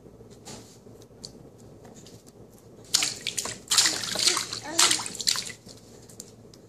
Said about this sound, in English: Are you splashing in the water?